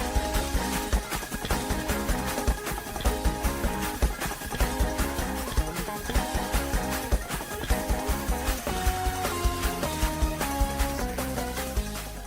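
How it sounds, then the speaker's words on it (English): Fast, driving gospel praise break played on guitar with a full band beat; dense rhythmic strums and steady pulsing drums, loud and busy throughout with no talking. "I am going to give you the simplest way of playing a praise break on the guitar"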